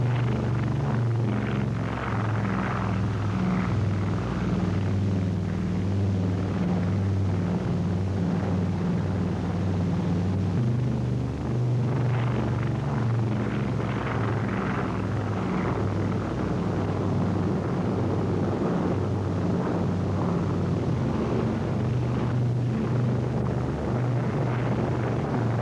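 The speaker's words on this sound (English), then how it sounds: "Takeoff. In almost perfect flying weather, the airborne fleet gets off the ground." A fleet of WWII transport planes lifts off for Operation Varsity, their piston engines merging into a steady, droning low rumble with a windy hiss that holds for the whole stretch, with no voices.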